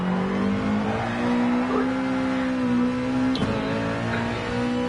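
Car engine revving hard at steady high pitch as the loose rear wheels spin into oversteer on dirty tyres, with a short tire squeal partway through, fairly close and continuous.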